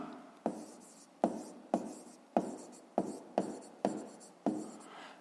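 A pen scratches across paper while a fifth-grade maths exercise is worked through, in short separate strokes that each start sharply and then fade, nine of them spaced about half a second to a second apart, close and quiet with no talk.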